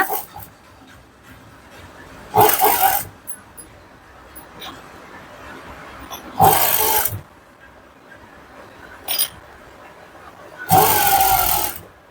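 A sewing machine stitches the finishing on a blouse lining in three short, loud bursts, separated by quieter handling sounds.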